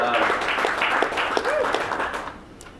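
Concert crowd applauding, a dense steady patter of many clapping hands with scattered whoops, fading out toward the end.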